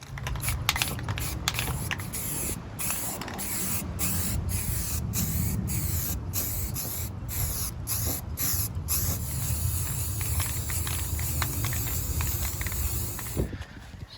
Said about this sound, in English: This spray paint's gonna take some time to dry because it's cold outside